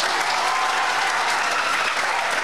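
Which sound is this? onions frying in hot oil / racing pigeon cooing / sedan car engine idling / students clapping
students clapping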